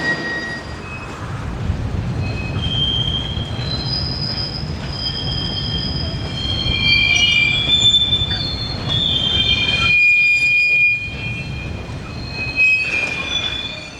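Rakes of freight wagons propelled over a yard hump by pairs of French 63000 diesel locomotives, with loud, sustained high-pitched wheel squeals ringing over a steady rumble of rolling stock, briefly easing before resuming.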